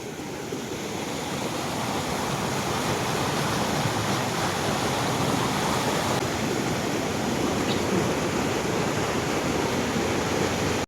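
Canal water pours steadily into a village pond, with a dense, continuous rushing roar like a small waterfall. It is loud and unbroken for the whole span, with no voices.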